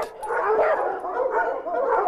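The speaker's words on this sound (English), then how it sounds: "We have 3 large dogs in the house itself. And we normally have 50 to 60 dogs in the kennels." Dogs bark and yip in a kennel that holds dozens of dogs, a short burst of sharp, closely spaced barks with a whimpering edge, fairly close and loud.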